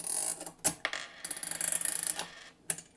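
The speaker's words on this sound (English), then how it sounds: "what you just heard was the penny falling out" A penny drops through a Duncan Miller Model 50 coin-operated timing mechanism, giving a quick run of close metallic clinks and rattles with a final clink near the end, no talking.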